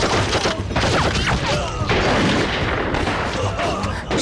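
Gunfire rings out in an anti-Japanese wartime spy TV drama, with a loud, dense volley of shots and bangs over a busy, noisy background.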